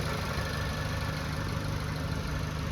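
The 2.0-liter turbocharged four-cylinder of a 2024 Volkswagen Golf R idles steadily, a constant close low rumble with broad hiss and no voices over the short stretch.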